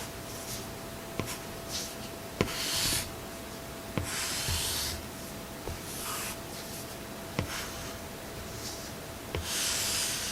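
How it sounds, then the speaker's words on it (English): An Apple Pencil stroking across a PaperLike matte screen protector on an iPad, soft papery scratching strokes in bursts with small taps between them, close and quiet with no voices. "It's very satisfying to hear the sound of pencil strokes."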